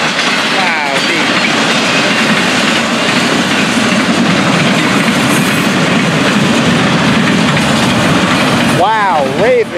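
Freight train of tank cars rolling past up close at night, a loud steady roar of wheels with rhythmic clickety-clack throughout and a brief squeal near the end.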